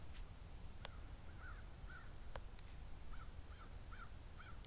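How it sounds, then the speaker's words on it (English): Several crows caw in short repeated bursts as they fly past, calls coming at a moderate distance over a steady low background rumble, with a few sharp clicks in between. "Look at all the crows flying by."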